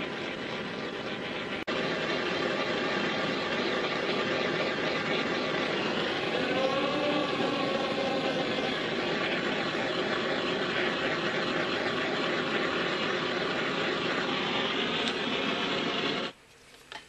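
A blow torch roars steadily while heating PVC water pipe, a constant loud hiss that runs unbroken for most of the time and then cuts off abruptly near the end.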